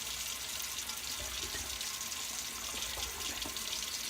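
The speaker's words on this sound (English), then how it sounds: "I just add water back into this so I can get as much dye as possible" Water pouring steadily into a tie-dye container to rinse out the remaining dye, a continuous close splashing and filling sound with no talk.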